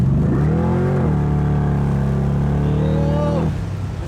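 A supercharged Corvette accelerates hard nearby, its engine note climbing in a loud rising whine before cutting back near the end.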